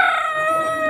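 A rooster crows on a farm in the German countryside. The call is brief, loud, close and drawn out, with no other sounds around it.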